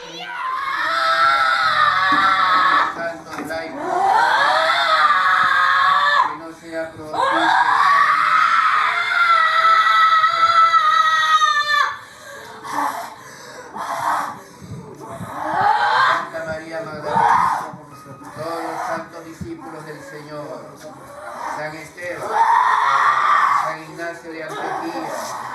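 Possessed people screaming, yelling and crying during a recorded exorcism, loud and overlapping, with high wailing cries rising and falling in long bursts, then choppier shouts and sobs throughout.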